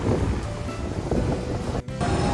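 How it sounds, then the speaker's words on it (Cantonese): Big ocean waves surge and wash beside a cruise ship at Costa Maya, Mexico, a steady loud roar of surf mixed with wind buffeting the microphone, briefly dropping out near the end. "今日好大浪啊！"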